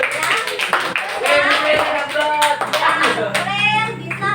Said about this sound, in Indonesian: Kasih tepuk tangan buat Mukrin